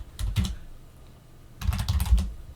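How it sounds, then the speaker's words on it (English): Two short bursts of computer keyboard typing, a quick flurry of keystrokes followed by a pause and a longer run of clicks, close and fairly quiet with no talking. "To deactivate, type conda deactivate."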